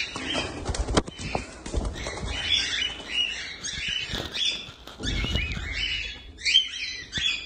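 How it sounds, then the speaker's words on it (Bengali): Young cockatiels squawk and chirp in a busy, continuous chorus of shrill calls close by, with several overlapping birds and brief clatters in between. "এটাও বাচ্চা পাখি।"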